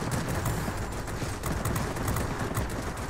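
Rapid, continuous cannon fire from an I-153P biplane in the World of Warplanes video game, a dense, loud, unbroken stream of shots with steady rattling bursts throughout.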